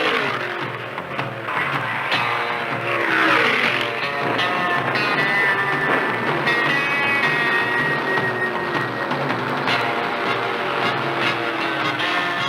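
Stock cars race in the 1975 Permatex 300 with a continuous, loud roar of engines that rises and falls as cars sweep past, filling the whole stretch without pause.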